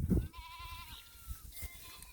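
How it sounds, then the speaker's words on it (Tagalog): Goats on a farm bleat nearby, one wavering, drawn-out call followed by fainter overlapping bleats against soft background rustling. "Yan po yung mga kambing natin."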